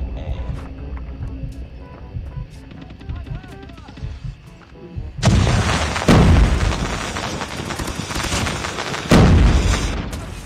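An FR-556 assault rifle in a shooter game fires loud, close, sustained automatic bursts, then pauses briefly before firing again, following a quieter stretch of game sounds and talk.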